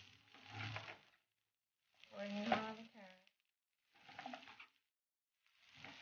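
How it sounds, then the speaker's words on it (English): Carrots sauté in a stir-fry pan with shrimp and lo mein vegetables, giving quiet bursts of sizzling and stirring that come in separate spells of about a second, with pauses between. "now I'm gonna be putting in some carrots gonna saute my carrots"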